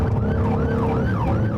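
Ambulance siren wailing in a steady rising-and-falling sweep, loud and continuous over road noise as the crew responds to a night overdose call at a group home in Murfreesboro, Tennessee.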